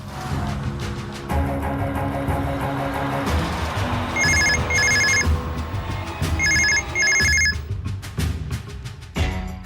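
A landline telephone rings in a Telugu TV serial scene, sounding two separate pairs of bright, repeated double rings over steady background music and room noise.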